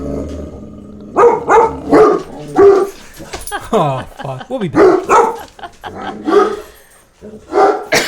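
Excited pet dogs bark and yip in bursts close by, mixed with a person talking over them in a home setting.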